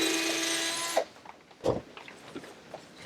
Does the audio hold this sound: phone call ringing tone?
no